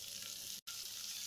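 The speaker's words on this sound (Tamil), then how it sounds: "சேர்த்துட்டு இதை நல்ல பச்சை வாசனை போகிற அளவுக்கு வதக்கி எடுத்துக்கலாம்." Chopped onion and ginger garlic paste sautéing in a pan, a quiet continuous sizzle with faint stirring, heard alone apart from a short dropout midway.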